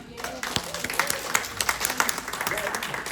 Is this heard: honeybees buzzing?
no